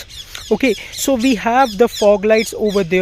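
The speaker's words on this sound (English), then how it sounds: "sorry for the birds" Loud squawking birds screech repeatedly over someone talking close by, their harsh calls overlapping his speech.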